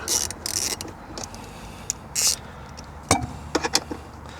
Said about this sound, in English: Let's go ahead and loosen this 10mm up.